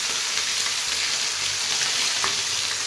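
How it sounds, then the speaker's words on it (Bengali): Fish sizzling steadily in hot oil in a pan, a loud, continuous crackling hiss that stays even throughout with no voices. "তো আমি এখন মাছগুলোকে ছেড়ে দিই"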